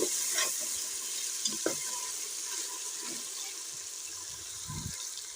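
Chicken frying with garlic-ginger paste and onions for chicken pulao, a steady close sizzle with a few scraping stirs of a spoon in the pot, no voices.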